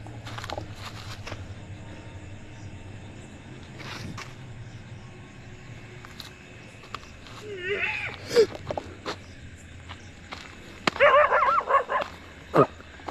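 A dog barks a few times at a distance, and then whimpers, over a quiet background with some faint thumps.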